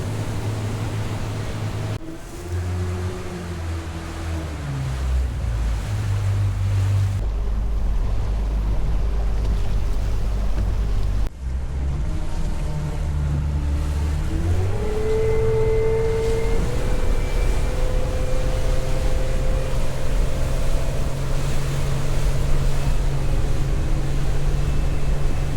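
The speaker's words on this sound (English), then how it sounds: "A little windier than we were hoping for starting out." Wind buffeting a motorboat running on open water near Sanibel and Punta Rasa, with a constant loud rush over a droning engine whose pitch rises and falls. No voices.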